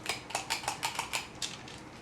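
Gluten-free herb and cheese bagel dough is portioned with a metal portion scoop, giving a quick series of about eight faint, close metallic clicks in a steady rhythm.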